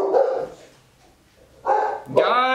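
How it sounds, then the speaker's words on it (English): A male dog barks indoors in loud, close bursts, with one bark near the start and two more toward the end. Quieter whimpering sounds fall in between. "what are you barking at, boy?"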